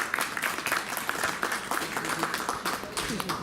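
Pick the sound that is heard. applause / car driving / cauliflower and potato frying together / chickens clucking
applause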